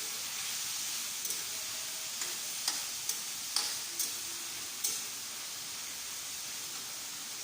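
Onion grass dropped into a frying pan for a simple egg dish, giving a steady hissing sizzle of hot oil throughout, with a few soft ticks and clatters from stirring on top.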